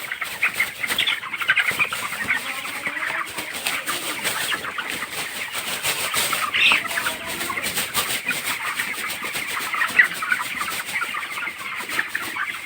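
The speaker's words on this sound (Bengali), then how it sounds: "বিশ দিন বয়স মুরগিগুলোর।" Twenty-day-old broiler chickens in a poultry shed keep up a constant chorus of cheeps and clucks, with occasional wing flaps, close and steady throughout.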